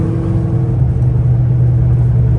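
A Ford Mustang GT500, windows up, accelerates with a loud, steady supercharger whine over a deep, droning exhaust rumble, heard from inside the car.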